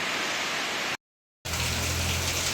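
Heavy rain falling on a farm field, a dense close hiss of downpour before and after a brief gap of silence.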